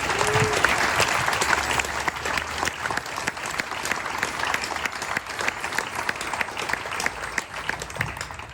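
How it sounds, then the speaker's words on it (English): Sustained applause from a crowd at an evening rally for Black lives lost to police brutality, steady dense clapping filling the whole stretch with faint voices underneath. "So clap it up for them."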